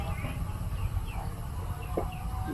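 Chickens cluck and a rooster gives short calls amid farmyard background noise, with people talking nearby at a Philippine sweet potato planting site.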